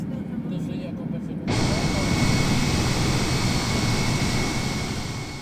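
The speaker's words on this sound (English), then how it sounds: "That is the auto throttle spooling down the engines because I am going a little too fast right now." Jet engines on an airliner in Microsoft Flight Simulator, cut in as the autothrottle spools them down: a sudden loud, steady turbine roar and hiss that holds constant and eases slightly toward the end.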